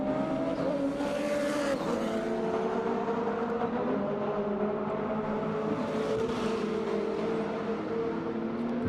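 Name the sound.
race car on flying lap at Circuit of the Americas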